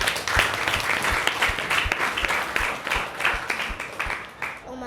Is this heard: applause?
yes